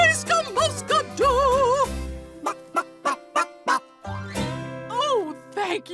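Cartoon farm chickens cluck in a quick series of bright, bouncy, voiced clucks with a few drawn-out squawks, clearly imitated by a performer's voice over light musical backing.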